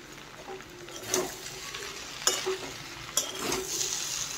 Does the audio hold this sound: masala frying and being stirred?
yes